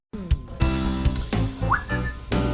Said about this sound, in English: Oh, are we whistling?